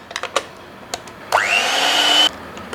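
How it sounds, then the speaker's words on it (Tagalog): A hand electric mixer whipping chilled thick cream switches on after a few light clatters, whirring up to a steady high whine for about a second before cutting off. "Dito ay gagamit tayo ng hand electric mixer."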